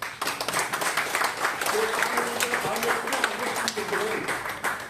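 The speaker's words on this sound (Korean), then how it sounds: "우리 태준호 장로님께 박수 한번 부탁드립니다" A church congregation applauds an elder being honored during a congratulatory address, a moderate wash of clapping running throughout with voices talking over it.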